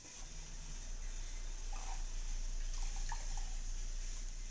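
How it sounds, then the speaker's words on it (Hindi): Fresh fenugreek leaves are washed by hand in a bowl of water, giving a continuous soft wash of liquid with a few small splashes and sloshes close by, and no speech. "अब हम मेथी को धोएंगे।"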